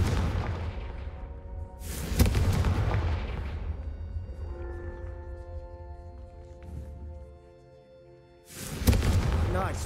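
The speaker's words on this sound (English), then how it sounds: "a Confringo cast travels a bit farther than that of a spell like Incendio" Confringo fire spell cast in the Hogwarts Legacy video game: loud booming blasts at the start and again near the end, with a ringing tonal tail and sparse game sounds between them.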